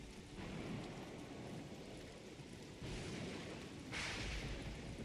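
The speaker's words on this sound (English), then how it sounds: "Oh, almost got hit by lightning." Rain falls steadily in a Don't Starve game storm while a lightning strike sets off low thunder rumbles, with two fainter swells in the second half. No one speaks.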